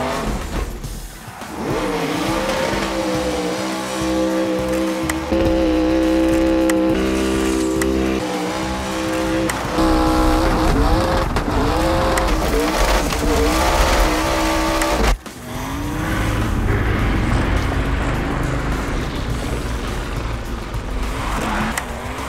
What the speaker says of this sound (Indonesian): mesinnya menggunakan Rush Yates 410 cubic inch Ford V8.